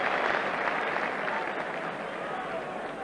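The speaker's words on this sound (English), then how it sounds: "that must have been pretty close by the reaction of the crowd behind the goal" A football crowd behind the goal roars and applauds at a close free kick in a 1984 Spurs versus Sunderland match, a loud sustained swell that slowly eases.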